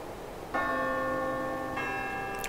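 A mechanically struck bell in the game Syberia rings out with a sudden bright clang, its tone sustaining and ringing on, then a second strike layers in a moment later, clear and alone over faint background hiss.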